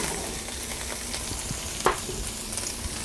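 Anchovies, chopped artichoke hearts and pressed garlic fry in a pan, giving a continuous close sizzle with a brief sharp clink partway through.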